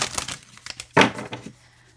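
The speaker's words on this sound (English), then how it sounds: "Now I'm going to shuffle again because that was a lot." Tarot cards are shuffled by hand in a series of crisp papery riffles and rustles, with one louder burst in the middle before the sound dies away to quiet.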